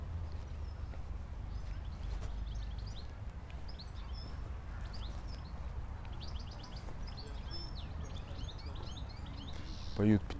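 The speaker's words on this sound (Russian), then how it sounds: "Поют птички." Small birds chirp and twitter intermittently in a quiet park in Orekhovaya Roshcha, Anapa, fairly faint over a low steady rumble, with a brief louder sound near the end.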